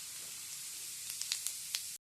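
Mustard and cumin seeds sizzling in hot oil, a soft continuous close hiss with several sharp pops and crackles toward the end, no talking.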